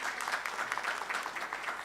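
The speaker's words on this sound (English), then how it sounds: "I think another round of applause for him" Audience applause at a regional policy conference session, steady dense clapping filling the hall throughout, with no talk over it.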